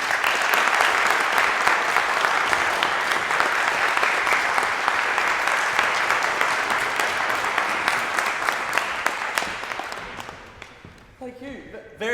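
An Oxford Union audience applauds warmly to welcome a guest speaker, with dense, sustained clapping for about ten seconds that then thins and fades.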